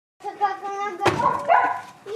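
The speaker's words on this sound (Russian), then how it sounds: "Это не Умка, мама гавкает" A dog barks a few times at close range, with short yips and a sharp thump partway through, mixed in with people talking nearby.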